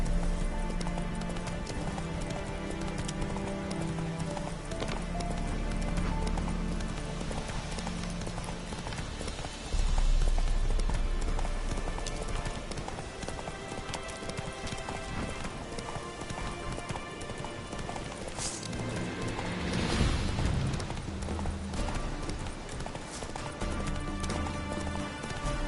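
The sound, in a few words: horse Roach galloping in video game The Witcher 3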